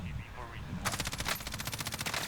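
Rapid automatic gunfire from a Warzone match, a fast regular burst of shots starting partway through after a low rumbling vehicle engine, fired from an SUV, loud and close.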